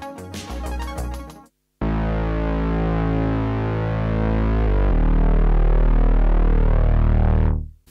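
A thick, buzzing six-voice detuned bass patch on a Prophet 6 synthesizer holds loud and steady for several seconds, its stacked detuned voices beating and swirling, after a brief busier musical passage and short silence.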